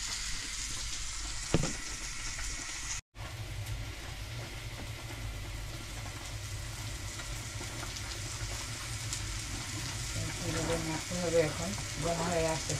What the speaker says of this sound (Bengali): পেঁয়াজটাকে ভেজে নিচ্ছি